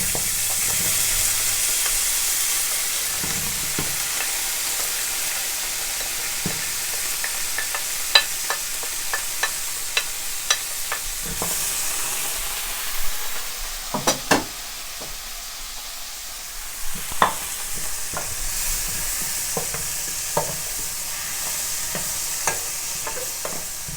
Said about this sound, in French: Maintenant je viens ajouter mes poireaux.